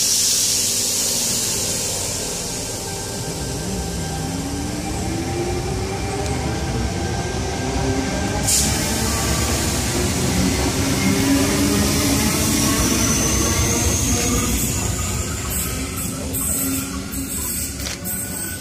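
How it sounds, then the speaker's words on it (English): Sydney T4 line electric train pulling away from a platform at Allawah station, with a steady loud rumble and hiss and a rising motor whine as it gathers speed, heard close by from the platform. "Four and T38 now departing from platform number 3 here at Allawah."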